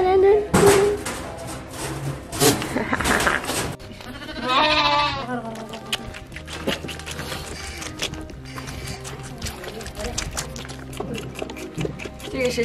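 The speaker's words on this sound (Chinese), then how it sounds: "这个是山羊羔。" A goat kid bleats on the Inner Mongolian grassland, giving loud, close, wavering cries early and in the middle, with people talking around it.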